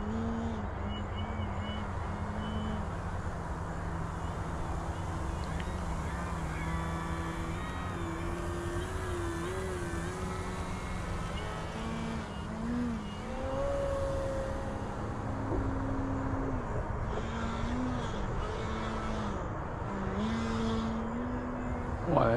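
An Avios ExtraNG 1600mm 3D RC plane flying overhead, its electric motor giving a steady droning whine that rises and falls in pitch with throttle changes, heard at a distance for over twenty seconds with faint wind and no clear speech.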